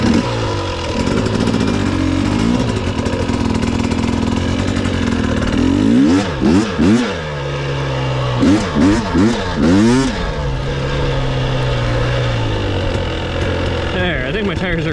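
A dirt bike stuck in quicksand idles and then revs repeatedly in rising and falling bursts near the mic, with the pitch climbing and dropping through the middle before settling back to a steady drone.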